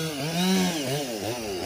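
A chainsaw cuts down trees in a rubber plantation being cleared, its engine revving in quick repeated surges at close range, loud and alone without talk.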